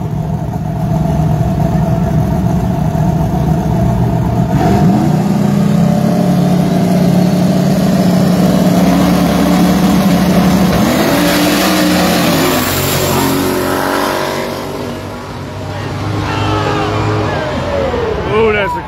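Racing cars accelerate through a close race at a woodland dirt track, engines roaring loud and continuous with rising revs and a sweep near the end, while people talk and cheer over them.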